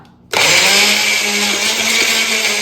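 A kitchen mixer grinder grinding dry potato bhajiya ingredients kicks on after a brief quiet moment, then runs as a loud, steady, high-pitched motor whir with no talking.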